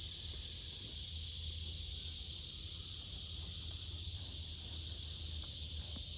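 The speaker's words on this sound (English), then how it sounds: "you guys hear the cicadas?" Cicadas buzz in a constant, even, high-pitched drone that fills the whole clip, with faint low rumbles underneath.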